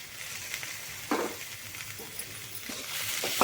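Chicken pepper fry sizzles steadily in a pan as coriander and curry leaves are stirred in, with several scraping strokes of the spoon breaking through the constant frying hiss.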